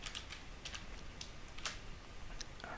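Someone types code on a computer keyboard in quick, uneven bursts of crisp clicks, close and fairly quiet, with no one speaking.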